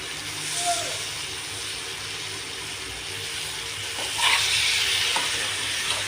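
Mutton head curry frying in a pan while it is stirred, a continuous sizzle with scraping stir strokes that briefly grow louder near the end, close and fairly loud.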